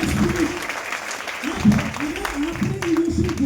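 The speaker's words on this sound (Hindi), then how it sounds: "तो एक बार जोरदार तालियां बजा दीजिए खुद के लिए।" An audience at a direct-selling motivational seminar claps loudly for themselves, a steady wash of applause with a voice talking over it in pulses.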